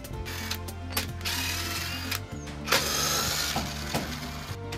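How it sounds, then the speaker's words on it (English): Screws backed out of a sliding glass door frame during assembly, a steady whirring of a powered driver with clicking ratchet-like pulses and short breaks between screws, close up and without talk. "So we're gonna take the 4 screws out of the top and the bottom."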